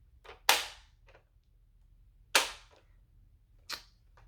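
A game console power switch clicked sharply several times, three loud snaps spaced apart with fainter clicks between them, close up and otherwise quiet.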